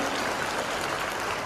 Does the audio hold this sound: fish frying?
no